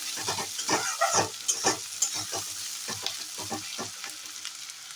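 Onions fry in hot oil in a pan as ginger-garlic paste goes in for a puffed-rice curry, giving a steady close sizzle broken by repeated stirring scrapes, with no talking.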